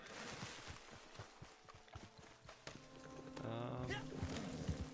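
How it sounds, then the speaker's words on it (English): A horse walks in the video game Red Dead Online, its hooves clip-clopping in a steady rhythm under ambient game sound. No one speaks over the footsteps. "Let's get the horse."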